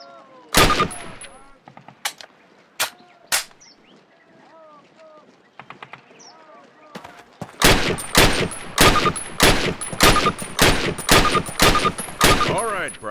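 Rifle and carbine gunfire during Call of Duty training in a video game: a few sharp single shots early, then a rapid, evenly spaced string of loud cracks, with talking in the quieter gaps.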